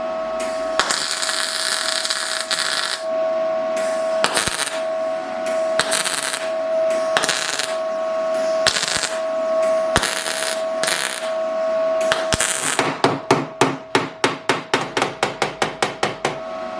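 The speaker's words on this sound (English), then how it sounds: "I'm spot welding along" Spot welding a patch onto a Mercedes W109 rear door, with a steady electrical hum broken by sharp isolated clicks, then a quick rhythmic series of snapping pulses near the end.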